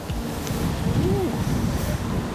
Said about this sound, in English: the winds are already gusting at 20